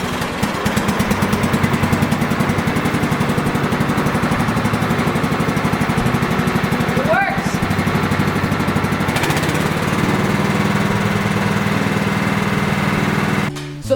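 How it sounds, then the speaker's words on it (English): A small lawn tractor engine runs loudly and steadily close by, a constant mower-like drone that dips briefly in pitch partway through, then cuts off abruptly at the end. "Let's fire up the tractor and see if the switch works."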